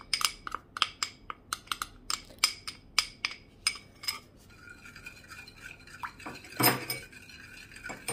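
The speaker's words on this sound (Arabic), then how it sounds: "احركهم حتى يذوب السكر" A spoon clinks repeatedly against a pot while stirring sugar until it dissolves for Lebanese sfouf, in a regular scraping-tap rhythm, followed by a brief louder clatter and a softer continuous swirl at the end.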